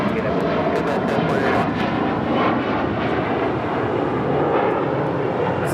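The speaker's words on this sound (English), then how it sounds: "runway 25 right, clear for takeoff" An airliner taking off from runway 25 right at LAX roars steadily and loudly from start to finish, a continuous engine drone with faint speech underneath.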